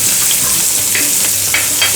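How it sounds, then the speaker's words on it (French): Onion, garlic and ginger frying in a hot pan give a loud, dense, continuous sizzle close up, with a few crackling pops and no voices. "faire cuire les oignons"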